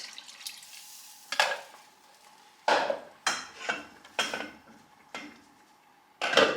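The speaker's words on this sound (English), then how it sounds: "Give it a good stir." A spoon scrapes and clatters around a pot of cabbage and tomato soup in a series of irregular stirring strokes, with quiet gaps between them.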